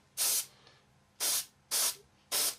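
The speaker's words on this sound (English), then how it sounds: "the thinners that we've just sprayed over it is obviously going to melt some of that paintwork" Thinners sprayed in quick passes over parts of an Eduard 1/48 SU-25 scale model kit: four short, loud, close hissing bursts with brief pauses between them.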